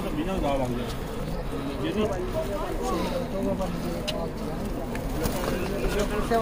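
Pigeons coo softly at Jabal an-Nour in Makkah, low warbling calls repeating amid a busy outdoor crowd, with people talking throughout.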